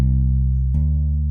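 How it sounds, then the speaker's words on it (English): A bass guitar line played with hammer-ons and slides: a low sustained note that shifts pitch midway with a smooth glide, close and fairly loud, with no voices. "But now we're going to play that line using hammer-ons and slides."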